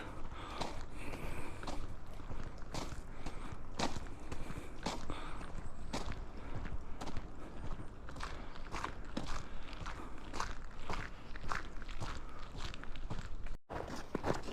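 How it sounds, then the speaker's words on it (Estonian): Rubber boots crunch and tramp along a forest hiking trail near Harku, a steady stream of close, rhythmic footsteps continuing for the whole stretch with no talking. "Mis ma siin olen kõndinud nüüd 400 meetrit"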